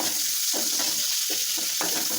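Mustard seeds, cumin and onion frying in oil, a continuous loud close sizzle with rhythmic bursts of stirring against the pan.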